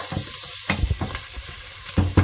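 Bacon sizzles and spits in a pot as the base for seafood chowder, a close, crackling fry with small pops and stirring scrapes over a short stretch.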